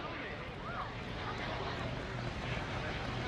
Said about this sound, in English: Now he's going to turn this airplane around.